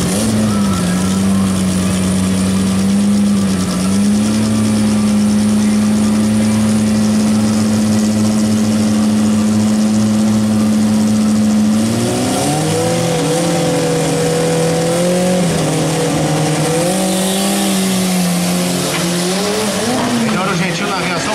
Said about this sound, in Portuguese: Pista liberada para o gol quadrado da equipe Andrade, o gol bola de Marcos Henrich